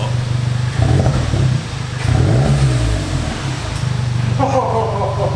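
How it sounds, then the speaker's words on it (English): A Volkswagen MK7 GTI runs with its stock exhaust removed, a rough, loud rumble that surges with a couple of revs before settling into a steady idle, while people talk nearby. "of course we have to start the car."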